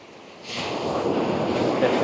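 Ocean waves at Sao Beach on Phu Quoc Island, Vietnam: a broad wash of surf that swells up suddenly and then rushes on steadily, close by, with some wind noise on the microphone.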